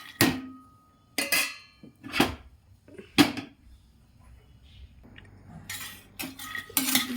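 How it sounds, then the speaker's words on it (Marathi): Makhana (fox nuts) dry-roasting in a pan, with a few loud, sharp rattling clatters of the nuts tossed against the metal, spaced a second or so apart, over a quiet background. "हे मखाने व्यवस्थित भाजून घ्यायचे."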